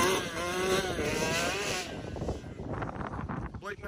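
Yamaha Blaster and Yamaha Banshee ATVs racing, engines revving loudly up through gears in a sustained rising whine that fades as they pull away, ending with rougher, more distant engine noise.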